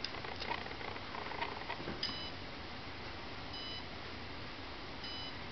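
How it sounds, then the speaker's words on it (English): Faint electronic beeps from an RC car's speed controller on a 3S LiPo battery repeat a few times, short and evenly spaced tones over a soft background hiss. "You don't have to wait for the beeps"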